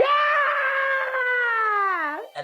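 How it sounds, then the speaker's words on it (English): Drunk people screaming, one loud close voice dominating in a long sustained yell whose pitch slides down at the end, followed by a brief cut-off sound. "drunk people screaming."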